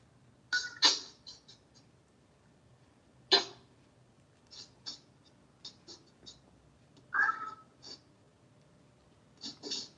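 A pet cat chirps and meows in short, sparse calls at close range, spaced out over a quiet room with faint background hum.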